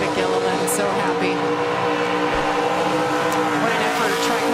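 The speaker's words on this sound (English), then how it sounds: "he has enough for a burnout" A NASCAR Truck Series truck does a post-race burnout, its engine roaring loud and steady with tire squeal mixed in, while crowd noise and voices run underneath.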